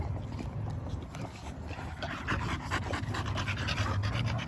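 A heavily pregnant dog pants close by in quick, rhythmic breaths that hold steady over a low background rumble.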